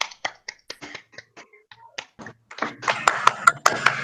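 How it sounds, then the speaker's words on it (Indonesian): Classroom applause for student groups, starting as scattered sharp claps and building into a denser burst of clapping from several people near the end, brief and fairly close. "kita beri aplaus untuk kelompok 2 dan kelompok 1"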